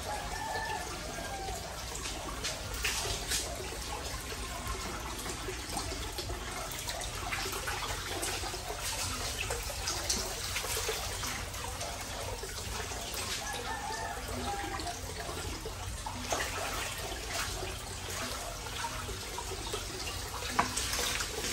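Water poured steadily over a tub of catfish for a customer, a continuous close splashing and trickling that lasts throughout, with no talk.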